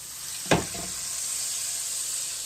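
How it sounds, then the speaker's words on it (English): Steady frying sizzle of hoe cakes in hot oil, a continuous hiss with one brief louder crackle near the start. "Just because you're kind of frying these a little bit"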